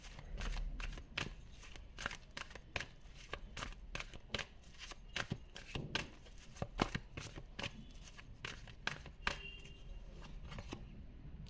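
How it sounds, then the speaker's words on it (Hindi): Tarot cards shuffled continuously by hand, a steady stream of crisp riffling and slapping flutters repeating every half second or so, close and fairly quiet, with no talk over it. "अगर आपको कार्ड शफलिंग पसंद नहीं है आप सीधा अपनी रीडिंग पर जा सकते हैं"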